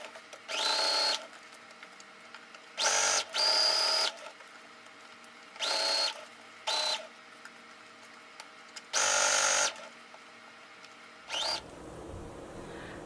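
A sewing machine stitches a clutch bag seam at a half-inch allowance in short, loud whirring bursts, about six runs separated by brief pauses, ending with a shorter final burst.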